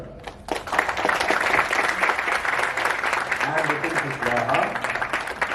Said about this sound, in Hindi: और इसी तरह से आप लोग ताली बजाते रहिए।